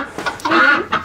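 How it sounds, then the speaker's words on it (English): A goose honks close by, giving a short burst of nasal, brassy calls in quick succession. "That's him honking."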